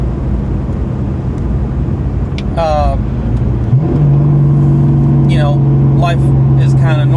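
A car drives and slows toward a red light, a low engine hum with a faint background drone while a person talks over it at close range.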